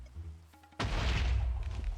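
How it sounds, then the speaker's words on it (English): A loud explosion in the video game Minecraft, set off some 30 blocks below the player, bursts in suddenly as a broad roaring blast after a quieter stretch of faint game tones and then rumbles on. "All of a sudden, I just heard a loud explosion about 30 blocks below me."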